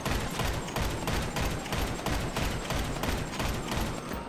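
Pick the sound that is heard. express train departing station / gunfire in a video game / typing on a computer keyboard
gunfire in a video game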